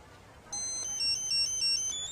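A cell phone ringtone starts abruptly and plays a bright, repeating electronic melody of stepped beeping tones, clear and fairly close against a quiet room background.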